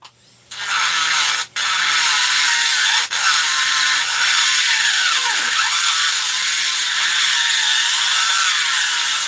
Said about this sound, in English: I'll just grind that off.